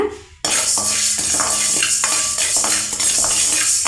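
A metal spoon stirs urad dal roasting in a pan for tamarind rice spice powder, producing repeated clinks and scrapes against the pan in a steady, close rhythm, roughly every half second, with no talking.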